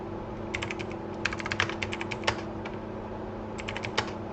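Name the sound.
typing on a computer keyboard in Microsoft Office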